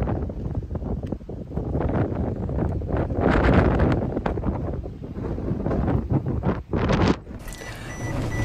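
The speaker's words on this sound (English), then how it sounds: "So that was windy" Strong gusty wind buffets the microphone, roaring and rumbling in uneven bursts throughout, with no voices.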